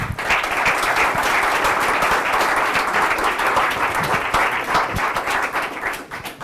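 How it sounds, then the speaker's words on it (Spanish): An audience at a Python Madrid meetup on Big Data technologies applauds after a talk, a dense, sustained burst of many hands clapping that fades near the end. "Un aplauso y muchas gracias"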